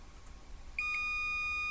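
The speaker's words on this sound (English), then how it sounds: "We're going to get a beep." Multimeter in continuity mode giving a steady electronic beep that starts partway through and holds unbroken to the end, clear and close, with no talking.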